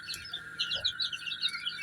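Hybrid quail chicks housed together with tiger chicken chicks give off a quick series of thin, high chirps and peeps, faint and fairly steady throughout.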